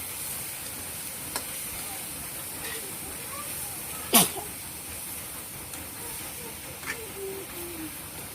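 Taro pieces drop into a pan of fried spice masala for a fresh tengra fish curry, giving a steady, close sizzle with a sharp clatter midway and a few lighter knocks.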